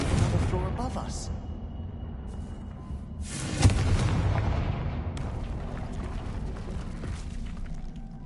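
A Confringo spell explosion in the video game Hogwarts Legacy: one sharp, loud blast bursts out midway and fades into a rumbling tail, over continuous low game ambience.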